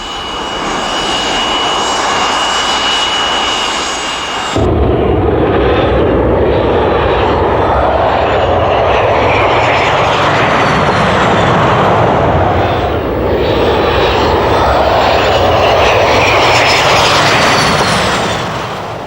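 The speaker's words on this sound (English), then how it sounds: "From the front, there is a high-pitched whine, while from the rear, there is only a faint rumble." A Lockheed F-117 Nighthawk stealth jet's engines give a loud, steady roar with a high whine over a deep rumble, swelling sharply after a few seconds and holding strong throughout.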